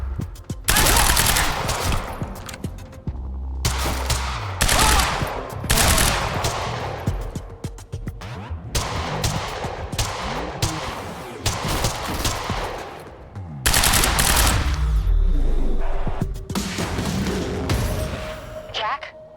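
Suppressing gunfire in Quantum Break, loud bursts of automatic rifle fire and scattered shots in repeated volleys with heavy thumps, close and dense, with shouting voices between and under the shooting.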